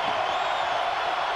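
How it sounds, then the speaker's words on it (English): Steady roar of a basketball arena crowd at a 1991 Big 8 game, Kansas at Kansas State, filling the whole moment with continuous loud murmur and scattered whoops, no single voice standing out. "Crowd wants something done."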